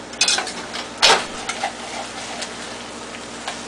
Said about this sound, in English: Turn everything over, scrape the bottom because it's potatoes after all